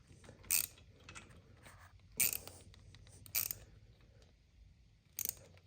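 Ratcheting wrench tightening bolts on a Harley-Davidson 96-inch Twin Cam engine, working back and forth across the sides: four short, sharp bursts of clicking spaced a second or two apart, close and fairly quiet, with faint rustling between.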